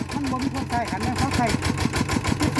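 A walking tractor engine runs steadily nearby with a rhythmic, thumping idle, and a voice talks over it.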